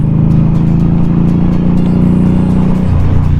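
A 2017 Indian Scout motorcycle cruising on a road in third gear, its engine a loud, steady low rumble with constant wind rush, holding even throttle before a slight drop in pitch near the end.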